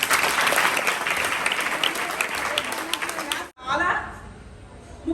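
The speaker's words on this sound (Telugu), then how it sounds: "ఒకసారి క్లాప్స్" An audience at an organ-donation awareness talk breaks into dense, loud, sustained clapping for about three and a half seconds; it stops abruptly, leaving a quieter murmur of the crowd.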